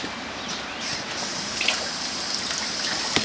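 Fish slices rinsed under a running tap make a steady close gush of water with small splashes and drips, and no talking.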